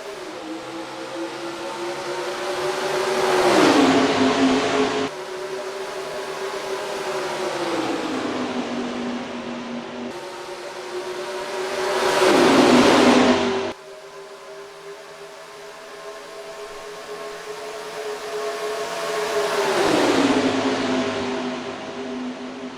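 Race cars in the NASCAR Racing 2003 video game surging away at the green flag at Homestead's All-Star race, engines rising and falling in repeated sweeping passes as cars roar by and fade.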